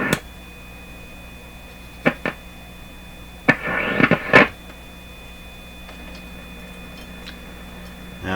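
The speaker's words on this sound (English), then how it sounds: "Now the sound you're hearing, I think, is the signal generator." Steady thin electronic tones from a signal generator hum through a General Electric C600 radio beneath faint static, broken by a few sharp clicks and a short burst of crackling noise near the middle.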